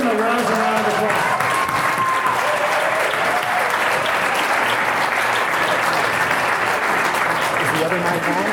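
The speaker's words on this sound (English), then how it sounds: "All right, please give them a round of applause." A live audience applauds a vocal group called Octave Atlanta at a show, loud, dense clapping that holds steady for over eight seconds, with a few voices and whoops mixed into the crowd noise.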